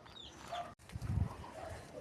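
Soft clucking from a chicken, with a brief pause partway through, over low background noise and rustling.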